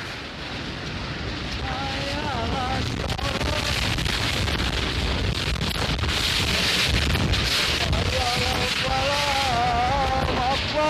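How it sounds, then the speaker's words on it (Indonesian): A tornado whirlwind tears through Jelegong village in Rancaekek, Bandung, West Java, a steady loud roar of wind and rushing noise throughout, with distant shouting voices rising above the din. "Rekaman dahsyatnya angin puting beliung direkam oleh warga setempat."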